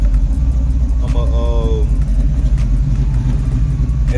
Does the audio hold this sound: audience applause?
no